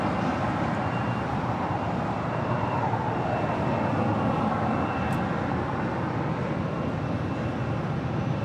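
An American Airlines Airbus A321 approaches runway 25 right at LAX, a loud continuous engine roar with broad rumbling noise and a faint descending whine, steady throughout without voices.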